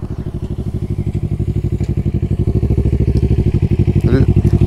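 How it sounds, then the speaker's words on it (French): A motorcycle engine thumps in a fast, even pulse close by, growing slightly louder over a few seconds. "On va attendre que la moto elle passe."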